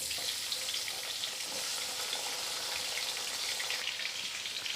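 Finely chopped onion and garlic frying with cumin in a pan, a steady close hiss and crackle of sizzling oil with no talk.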